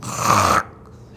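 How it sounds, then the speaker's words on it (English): A single loud, rasping snore rattles for about half a second, then cuts off into quiet breathing. "and then there's snore, right?"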